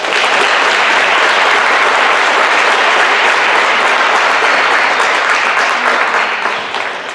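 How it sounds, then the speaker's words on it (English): Sustained applause from a banquet crowd at a county athletic event, thick, even clapping that holds strong throughout and eases slightly at the end. "So a quick round of applause for them."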